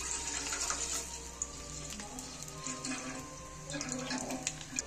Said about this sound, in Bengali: গ্যাসে আমি একটা ডেকচি বসিয়েছি, আর দুধটা কেটে ঢেলে দিচ্ছি।